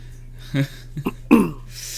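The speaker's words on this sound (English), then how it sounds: "We're feeling fine, just coughing." A person coughs close by in a few short, rough bursts spaced apart, somewhat like throat clearing, against a quiet background hum.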